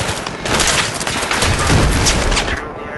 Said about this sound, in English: There's a jeep on Charlie shooting at everyone. Kind of fucking stationary gun.